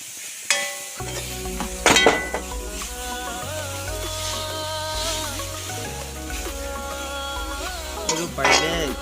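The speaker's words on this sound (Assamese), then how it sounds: "আৰু চুজিখিনি যেনেকৈ ভাজিছিলে এইখিনিও তেনেকৈ ভাজিব লাগিব," A grated coconut mixture sizzles and fries in ghee in a pan while being stirred for coconut laddoo, with steady sizzling and occasional clinks of a utensil against the pan.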